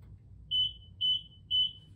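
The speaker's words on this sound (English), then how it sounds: "You'll also hear an audible beep when the door is in motion" Three evenly spaced electronic beeps from a RollSeal walk-in cooler/freezer door warning that the door is in motion, each about a quarter second long and fairly high-pitched, repeating every half second over a low background hum.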